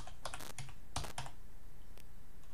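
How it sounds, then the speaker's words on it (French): Keystrokes on a computer keyboard with a QWERTY layout, tested on an old Linux machine: a few quick clusters of clicks, then two or three isolated taps, close and fairly quiet, with no talking. "on va voir si le clavier est bien en français"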